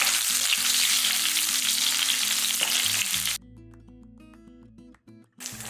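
Loud, dense sizzling of curry leaves dropped into hot oil with mustard seeds for Madurai-style mutton kuzhambu, crackling steadily for about three seconds before dropping to a softer frying hiss.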